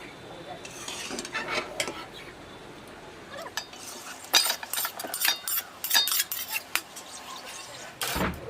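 Potato and chicken pieces go one by one into an oiled chicken biryani pot, giving irregular metallic clinks of a spoon against the pot with soft thuds and faint sizzling, close by.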